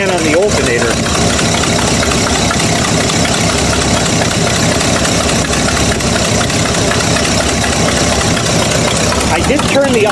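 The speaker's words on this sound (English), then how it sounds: "I could actually see the fluctuation in the idle" A Buick engine with a continuing misfire idles low and unevenly after a new coil was fitted, a loud, steady close rumble filling the whole stretch.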